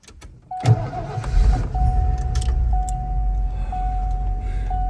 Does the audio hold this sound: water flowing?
no